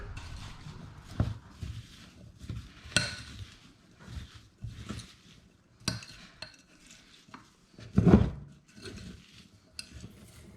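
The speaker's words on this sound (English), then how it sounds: "So we just dump this Jell-O over the top and we're gonna give that a stir" Strawberry Jell-O powder is stirred into rhubarb cake batter in a bowl, with repeated scraping and tapping strokes at an uneven rhythm and an occasional louder knock, close and clear with no talking.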